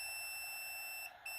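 An automatic mosque sound controller sounding its buzzer mode, a continuous shrill electronic beep held steadily, cutting out briefly near the end before resuming, with no voices.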